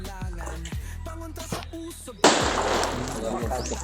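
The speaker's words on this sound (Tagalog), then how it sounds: "Tatlong putok." Several sharp gunshots crack out at uneven intervals, with a loud burst near the end ringing into noisy echo.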